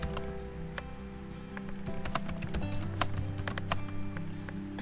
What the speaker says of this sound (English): so I am typing my message as enter your option